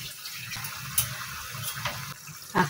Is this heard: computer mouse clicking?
no